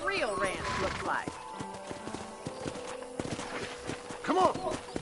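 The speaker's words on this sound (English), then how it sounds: "let's see if you can still ride a horse" Horse hooves clop at a riding pace in the western video game Red Dead Redemption, with a neigh near the start, a voice talking over the hoofbeats, and a few sharp cracks in the background.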